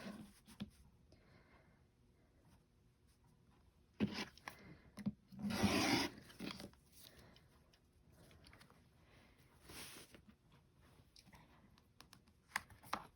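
Rotary cutter or scissors trimming the selvage edge off quilting fabric, a brief loud slicing burst in the middle with softer handling and rustling of cloth around it, no talking.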